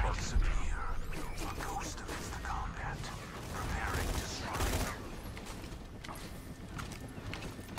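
Rapid bursts of gunfire from Roland's Scorpio assault rifle in the shooter game Borderlands 2, a dense crackle of shots in several volleys mixed with game effects, while someone talks over it.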